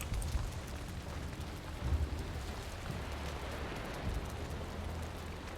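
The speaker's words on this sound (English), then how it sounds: "we need to protect it from the rain" Steady rain in Valheim falls around a base, a dense even hiss with low rumbling underneath, constant and moderately loud with no speech.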